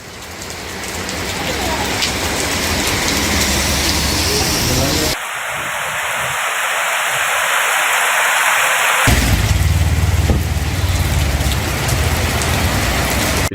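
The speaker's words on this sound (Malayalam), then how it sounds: "കടുത്ത ചൂടിന് ആശ്വാസമായി ഉപ്പുതറയിൽ വേനൽ മഴ പെയ്തിറങ്ങി" Heavy summer rain pours down in Upputhara, Kerala, after intense heat, making a loud, dense, unbroken hiss close by that shifts abruptly in tone partway through.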